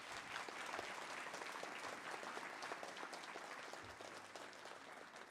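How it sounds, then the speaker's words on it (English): Sustained applause fills a graduation ceremony hall as the audience claps continuously and evenly, heard from a distance at low level. "so I ask you please to give them a round of applause"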